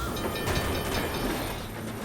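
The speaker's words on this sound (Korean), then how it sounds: "우리 열차 출발합니다." A train departs in the animated series Athlon, a dense, loud rumble of rail wheels and rolling carriages with steady clatter and hiss, no voices.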